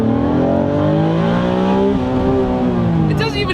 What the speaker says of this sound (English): It doesn't even sound like a freaking V6. It's just howling engine.